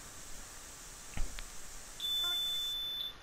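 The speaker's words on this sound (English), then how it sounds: "that was just an alarm from my door, from my front door opening" A home front-door alarm gives a thin, high electronic beep that holds steadily for about a second, faint and somewhat distant, after a soft click, with no talk.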